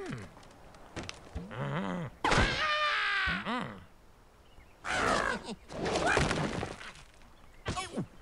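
Explosions and collapsing structures from the video game Angry Birds, a series of loud crashing, thudding and shattering bursts of wood and glass breaking, separated by brief quieter gaps.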